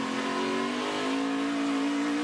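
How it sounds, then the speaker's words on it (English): A NASCAR Nationwide Series race car at Mid-Ohio accelerates at low RPM with its tires spinning, a loud, steady engine drone whose pitch climbs slowly across the whole clip. No voices are heard. "Where you're going to spin the tires is right here."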